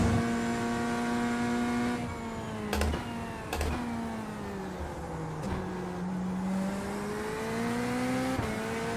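A race car engine in the iRacing video game at Portimao revs loudly under throttle, its pitch climbing and then cutting sharply at several gear shifts, with no one talking over it.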